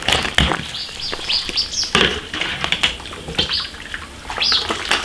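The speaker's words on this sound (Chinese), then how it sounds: "焯完水捞出来，洗干净" Blanched beef ribs rinsed under running water in a kitchen, with uneven splashing and gushing bursts as the ribs are moved about under the stream, close and fairly loud.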